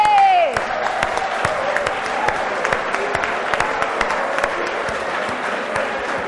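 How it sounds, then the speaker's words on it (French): A television game-show audience bursts into applause on cue, with clapping and some cheering in a loud, sustained crowd sound after a short rising tone at the start. "Applaudissez!"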